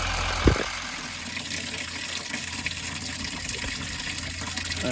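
Coolant flushes steadily through the radiator of a 2016 Chevrolet Silverado 3500HD with the engine running, a continuous rushing water sound with one brief knock near the start.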